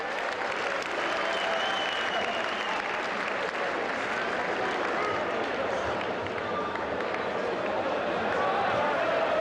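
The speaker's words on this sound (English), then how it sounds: "How about we give all of them a nice round of applause?" A large audience at a Naval Academy speech gives a sustained, dense round of applause for volunteers called to the stage, steady and loud throughout with some crowd murmur and voices mixed in.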